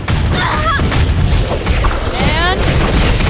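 A shot fires in the fighting video game Them's Fightin' Herds: a sharp booming gunshot burst with crash-like impact amid busy game effects and whooshing tones, brief and loud over a short span.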